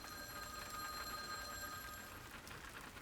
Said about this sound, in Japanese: 電話の音は辛抱強く鳴り響いている